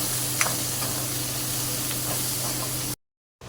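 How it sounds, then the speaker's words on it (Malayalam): Onion, ginger garlic paste and green chili sauté in hot oil, giving a constant close, fairly loud sizzling hiss with a few faint stirring ticks. It cuts off abruptly near the end, and no one speaks. "അതെല്ലാം കൂടി ഒന്ന് വഴറ്റിയെടുക്കാം."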